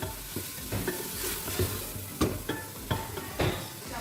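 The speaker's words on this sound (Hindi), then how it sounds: "अब ये भुन रहा है।" Mutton keema frying with dried coriander, cumin and a few drops of vinegar, a constant crackling sizzle punctuated by regular knocks and scrapes of a spoon against the pan, no voices.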